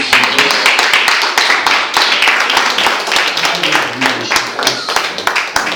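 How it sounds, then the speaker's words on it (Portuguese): A church congregation applauds during a sermon, loud, dense clapping close by with voices mingled in, sustained throughout. "Pode aplaudir ao Senhor"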